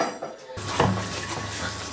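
Close clatter of a metal frying pan and utensils while frying potato pancakes, with a sharp clink and scraping over a steady background hum.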